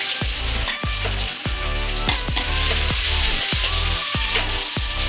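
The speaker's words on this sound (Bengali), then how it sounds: "এবার তেলটা গরম হয়ে গেছে এবার পেঁয়াজগুলো দিয়ে দেবো" Onions sizzle and fry in hot oil in a wok, a loud steady hiss broken by repeated scraping strokes of a stirring spatula, with no talking.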